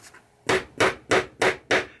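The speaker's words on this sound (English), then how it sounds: "Use a little hammer." Small hammer tapping a pop bumper nail through protective cardboard into a 1980 Williams Firepower pinball playfield, five evenly spaced, sharp close knocks.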